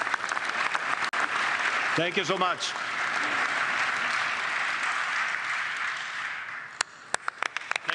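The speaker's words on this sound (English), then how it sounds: "a big applause and a big thank you" Audience applause at a pre-World Cup FIFA gathering in Vancouver, sustained loud clapping from a large crowd that thins out near the end, with a voice briefly speaking over it.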